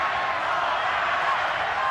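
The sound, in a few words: boxing arena crowd cheering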